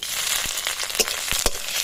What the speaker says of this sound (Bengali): আদাটাকে ভালো করে ভেজে নিতে হবে